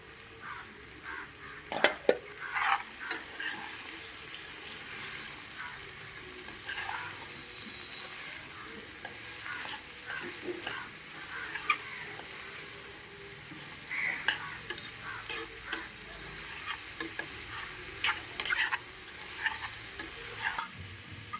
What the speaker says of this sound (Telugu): దొండక ముక్కలు వేసాం కదండి మగ్గనిద్దాం